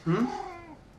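A hungry stray cat in a kitchen lets out a single drawn-out meow, close and fairly clear, lasting about a second with no talk.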